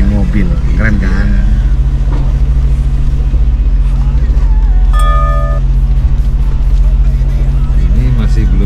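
A Jeep Hulk on full TeraFlex suspension climbs a flight of stairs, its engine a steady loud low drone that runs the whole way through. Voices talk over the engine.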